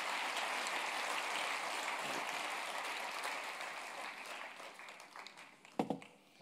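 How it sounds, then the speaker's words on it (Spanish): A church congregation applauds during a Spanish-language sermon: a steady, broad wash of many clapping hands that slowly thins and fades, ending in a few scattered claps and a brief cough-like sound. "Dale tu aplauso al Señor"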